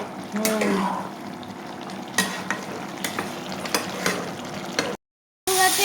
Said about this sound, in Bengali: চিকেনগুলো আপু ভাজতেছে